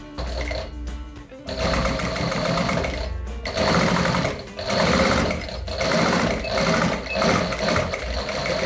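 An industrial upholstery sewing machine drives through four layers of leather in loud, close mechanical bursts that start and stop, running in long rapid stretches with short pauses between them.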